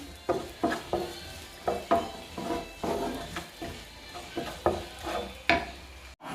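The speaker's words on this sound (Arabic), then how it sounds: "وغادي نشحره حتى تهبط مزيان." Two chopped onions stirred and sautéing in a pan, a soft sizzle under repeated rhythmic scrapes of the spoon against the pan, close up and with no talking.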